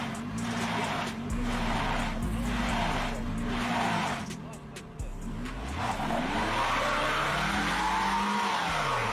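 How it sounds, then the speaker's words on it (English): Car tires spinning and slipping on snow during a traction test with the most unloaded wheels spinning, a loud continuous engine drone rising and falling in pitch as the revs surge, with a brief dip midway. "But even here, we see tires slipping immensely."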